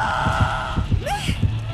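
Dead by Daylight killer's terror-radius heartbeat, loud, with the heartbeat enlarged by a perk. Low, throbbing double thumps repeat in a steady rhythm under game music, and a rising tone sweeps through partway.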